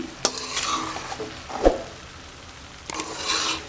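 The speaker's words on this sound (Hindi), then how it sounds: "इसे अच्छे तरीके से हिला लेंगे।" Okra and onions for bhindi do pyaza are stirred in a sizzling pan, with a few sharp scrapes of the spoon against the metal over a steady background fry, and no talk.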